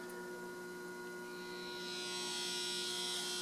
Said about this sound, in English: that little bit of a buzzing sound was the timer closing the circuit